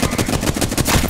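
Automatic gunfire in Apex Legends rattles out as a loud, close string of rapid shots, roughly a dozen evenly spaced cracks in just over a second.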